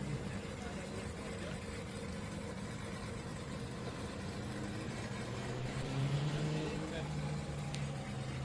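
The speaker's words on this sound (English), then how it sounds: "Sounds like a sequential gearbox as well." A Nissan 180SX drift car with a sequential gearbox runs its engine at a drift event in Malaysia, a steady mid-pitched drone that rises slightly near the end, heard continuously under a commentator's talk.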